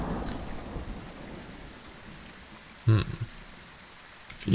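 A thunderstorm with steady rain hissing in the background and a couple of sharp, loud thunder cracks breaking in near the end.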